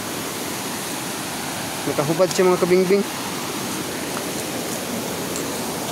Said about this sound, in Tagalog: Hirap kasi dyan oh, lakas ng tubig oh.